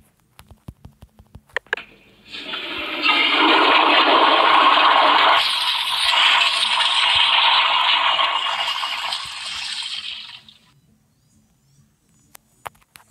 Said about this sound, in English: Gonna have to flush it again because I didn't hear. Let me flush it again.